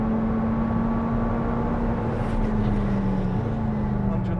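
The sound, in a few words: McLaren 765LT mid-engine supercar accelerating through gears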